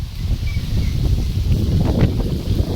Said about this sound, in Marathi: वारं झाडं हलती